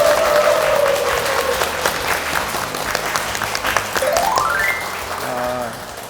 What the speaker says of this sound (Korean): 김태훈 작가의 강연 큰 박수로 맞으시기 바랍니다